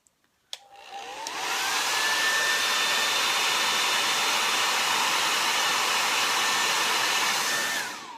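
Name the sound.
hair dryer blow-drying eyelashes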